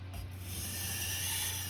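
A knife blade is worked on a whetstone to raise a burr, making a faint, continuous scraping rasp with a low hum underneath.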